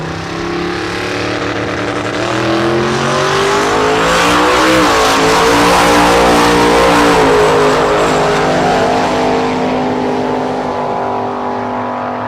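A Chevelle drag car with a turbocharged LS engine roars down the strip on its pass, one loud, sustained engine blast whose pitch rises steadily as it accelerates, filling the whole stretch with no voice.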